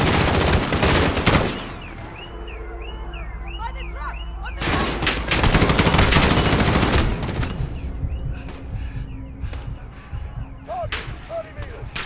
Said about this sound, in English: these dudes are shooting some serious shit, man